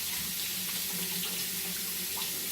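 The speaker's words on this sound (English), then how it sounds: "I'm going to go ahead and give this a quick rinse off" A kitchen sink faucet runs in a steady, close stream while a vegetable is rinsed under it, a continuous even hiss of water with faint splashing and no talking.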